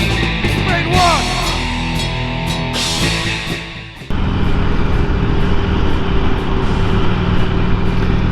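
Car driving through Memphis traffic: a steady close road and engine drone inside the vehicle, with a louder tonal passage in the first half before the plain broadband rumble takes over.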